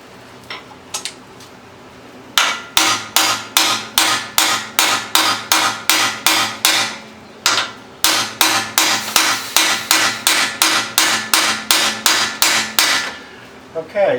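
Hammer tapping a part of a 9.75-inch F150 differential to seat it, a few scattered taps and then long runs of evenly spaced sharp metallic blows, close and loud, with one brief pause midway.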